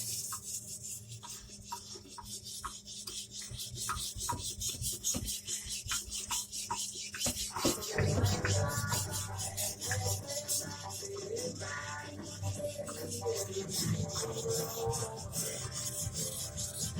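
A blade is stroked against a sharpening stone to grind its cutting edge and raise a burr, first as evenly spaced rasping passes, then a denser, continuous scraping rub, close and moderately quiet with no talk.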